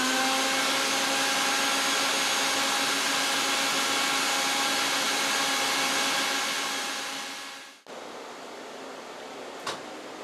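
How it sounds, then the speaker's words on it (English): Steady loud roar of a vacuum pulling dirt through a 100-year-old oriental rug from underneath, with tonal whine, cutting off near the end followed by quiet room noise and a small knock. "the vacuum located under the rug pulls everything through the rug"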